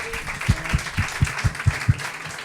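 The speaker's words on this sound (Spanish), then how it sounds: "un aplauso para Javi Nula" An audience at a live comedy show gives a short burst of rhythmic applause for a participant, about eight evenly spaced claps, fairly close and brief.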